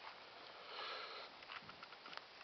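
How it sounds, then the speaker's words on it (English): Nine-week-old Airedale terrier puppies sniff around a filled-in hole outdoors, with quick, close, faint snuffling bursts and rustling breaths against a soft outdoor hiss. "that doesn't stop them from sniffing around."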